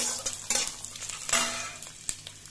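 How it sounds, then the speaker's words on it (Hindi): Dried coconut being stirred and roasted in a pan for a dry curry-leaf chutney, with scraping strokes over a soft steady sizzle, close and alone. "ये कच्चा नारियल नहीं, सूखा वाला नारियल है, इसे भी हम डालकर चला लेंगे। साथ में भून लेना है मुझे"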